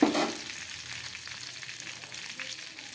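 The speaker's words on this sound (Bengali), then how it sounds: "এবার দিয়ে দিচ্ছি একটু গরম মশলা ফোড়ন" Whole garam masala crackles and sizzles in hot oil for chicken curry, opening with a loud burst as the spices hit the pan, then settling into a steady, softer frying hiss close by.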